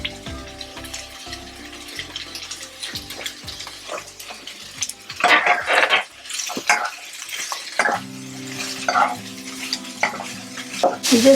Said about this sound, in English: You just let it fry for 1 minute.